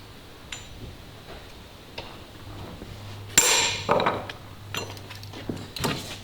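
Copper rivets being hammered into a leather belt, heard as a few scattered light taps and then a handful of louder, sharper close strikes, with no talking.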